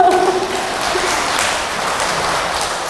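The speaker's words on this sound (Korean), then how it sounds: "그래서 박수 한번 쳐야 되는 거 아니에요?" An audience claps at a Buddhist lecture, the applause a steady broadband patter, moderately loud and fairly close, sustained for a few seconds with faint voices at the start.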